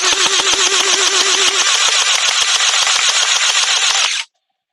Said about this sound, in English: We got an automatic. We'll shoot at the close target first.